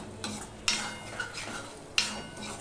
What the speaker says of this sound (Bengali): এবার আমি এটা একটু ভেজে নেব।